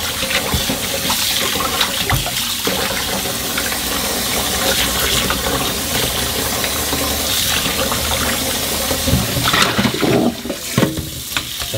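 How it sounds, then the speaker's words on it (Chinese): Tap water runs steadily and loudly over sea bass fish meat being rinsed in a kitchen, with continuous splashing throughout. "把鱼肉洗一下。 洗完了之后呢，能很大程度的去掉它的腥味。"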